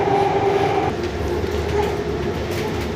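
A Namma Metro train at a station in Kengeri, Bengaluru, hums and rumbles close by, with a steady tonal whine fading partway through over the rolling rail noise.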